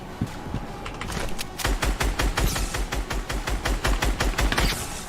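Rapid bursts of explosive impacts as rockets from an invisible Brute mech pound a player in Fortnite, a dense, loud, rhythmic barrage of thuds and cracks.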